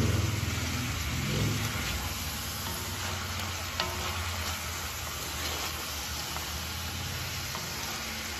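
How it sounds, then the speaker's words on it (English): Green beans for Fasoulia warming in a hot pan, a steady close sizzle and crackle that holds evenly throughout, with a light stir or scrape near the start. "So I'm just right now letting my beans just warm through from the heat."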